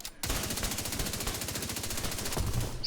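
Rapid automatic gunfire from the video game The Division 2, a dense, loud burst of shots firing steadily for nearly three seconds with no pause.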